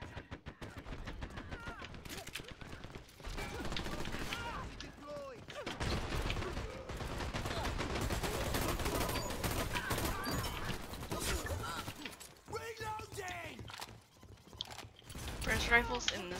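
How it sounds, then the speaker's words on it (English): Rifle gunfire in the shooter game Dirty Bomb, rapid bursts of shots mixed with clattering game effects and footsteps, dense and continuous with short pauses, heard alongside busy action sounds. "Rifles in this game is ridiculous."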